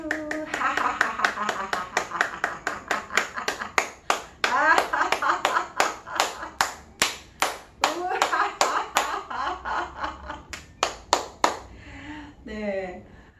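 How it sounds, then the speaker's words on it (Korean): An audience at a laughter therapy session claps in sharp, rhythmic bursts, the strong claps ringing out one by one over lively talk and chatter, then thinning out toward the end. "박수."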